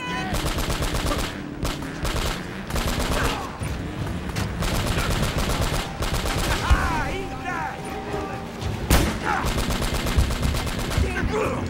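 Rapid gunfire from the video game Uncharted: Drake's Fortune, dense bursts of automatic shots packed close together and loud throughout, with brief gaps between volleys and a few sharper single reports.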